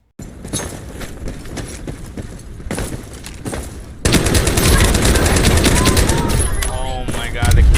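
Automatic QBZ rifle fire in the shooter game Ironsight rattles in rapid bursts, lighter at first and then dense, continuous and loud in the second half, close up.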